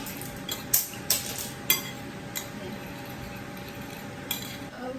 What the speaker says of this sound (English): Okay, sugar. Just mix it.